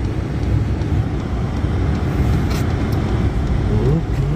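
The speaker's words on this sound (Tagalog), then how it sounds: "Dahan-dahan lang tayo ng drive. Medyo madulas." A car creeps slowly along a slippery road during the first snowfall in Kelowna, its engine a steady low rumble close by with faint road noise and occasional voices, no strong acceleration.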